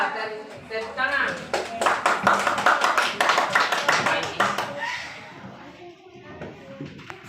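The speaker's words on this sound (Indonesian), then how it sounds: "Ya, tepuk tangan." An elementary classroom applauds together in a burst of rapid, dense clapping lasting several seconds, then fading into scattered claps and quiet voices.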